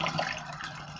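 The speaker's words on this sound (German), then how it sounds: "der Rest wird aufgefüllt mit Wasser." Water pours into a bottle to top up a homemade glass cleaner, a brief, steady splashing fill heard close and alone.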